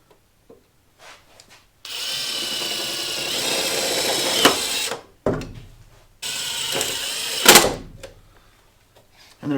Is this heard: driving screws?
yes